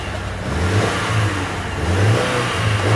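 A 2014 Subaru Forester XT engine revs hard against its rev limiter near 4,000 RPM, a steady loud mid-pitched drone with rhythmic pulsing bounces from the limiter cutting in, heard close with no talk.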